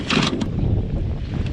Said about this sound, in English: that wind though